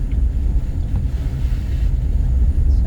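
Vehicle driving through floodwater during Typhoon Nika, a heavy low rumble of engine and water wash, steady and close, with wind-like noise on top and no voices.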